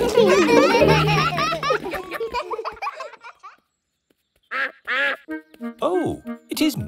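A cartoon duck, Mrs. Duck, quacks in a few short nasal bursts in the second half. Before that comes a busy, loud stretch of laughter and music, then a brief silence.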